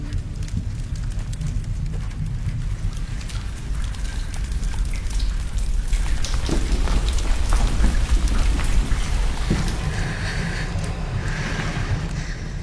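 Heavy rain pours down in a dense, continuous hiss that swells slightly midway, loud and close, with no voices.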